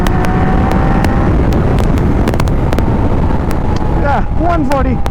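A Triumph Daytona 660 motorcycle pulls hard in sixth gear at speed, its engine drone buried in constant heavy wind rush, and a rider's voice comes in near the end.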